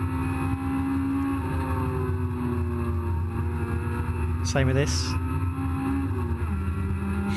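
A race car engine drones steadily from the cockpit at Cadwell Park as the driver eases slightly off the throttle, its pitch dipping briefly; a short spoken phrase cuts in midway.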